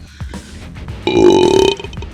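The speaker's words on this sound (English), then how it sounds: "Burps out a flaming ball of fire towards her." A Gila monster demon lets out a long, loud, throaty belch as it spits a ball of fire. The burp swells suddenly out of quieter background sounds, rumbles for under a second, then fades.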